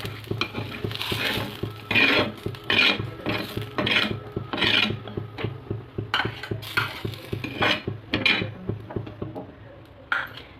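Roasted onion being stirred and scraped out of a pan over a gas stove for a Marathwada-style vadyachi bhaji with black masala, giving repeated close rasping scrapes and utensil clinks in an uneven rhythm with no talking.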